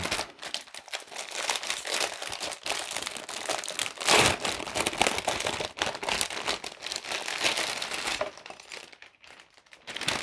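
Plastic magazine packaging for Warhammer Age of Sigmar Stormbringer issue 1 being opened, giving close, loud, continuous crinkling and crackling with sharper crunches, easing near the end.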